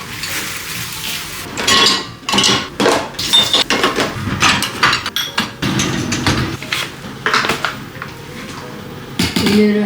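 Dishes washed in a home kitchen sink after a meal of gochujang stew, with close, continuous clinking of bowls and cutlery and splashing water in quick, irregular bursts.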